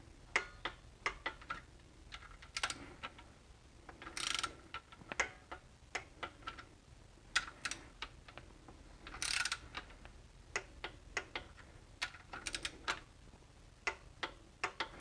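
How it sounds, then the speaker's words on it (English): An inch-pound torque wrench ratchets on BMW E46 camshaft bolts, giving quiet, quick clicking runs with sharper louder clicks at intervals, close by in a fairly quiet setting. "I'm going to use an inch pound torque wrench because this is my most recently calibrated thing."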